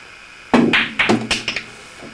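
A pool cue strikes a billiard ball, then a quick string of hard clacks and knocks as balls collide and the ball drops into a pocket, crisp and close in a quiet room.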